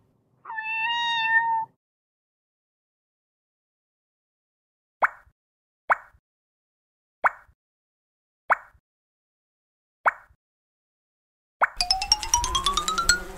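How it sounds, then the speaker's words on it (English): A kitten gives one drawn-out, high meow, then a pause, a series of short sharp knocks, and a rising chirpy cry at the end. "Kitten."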